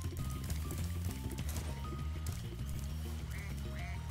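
Cartoonish duck quacks from the Spyro Reignited Trilogy video game, a few short quacks near the end over busy game music and ambient effects.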